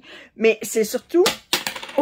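A small metal thread-cutter pendant drops and clatters onto a table, giving a few quick bright metallic hits mixed in with a woman's nearby French speech.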